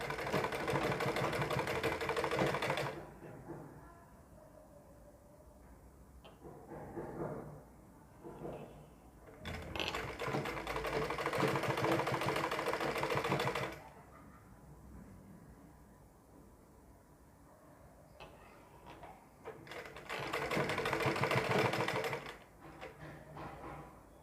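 A sewing machine stitching over a seam on the sleeve of a ladies' suit, running in three long steady whirring bursts with quieter handling noises and pauses between them, close and without speech.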